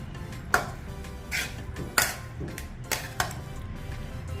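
A spoon mixes a ragi flour and vegetable mixture in a metal bowl, giving soft wet stirring broken by several distinct clinks of spoon against the bowl, close and without talking.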